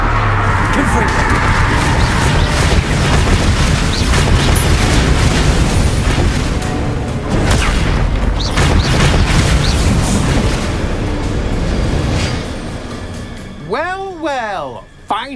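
Confringo spell explosions in the video game Hogwarts Legacy: loud, dense rumbling blasts that run on continuously, then fade into a quieter stretch with a few swooping chirps at the end.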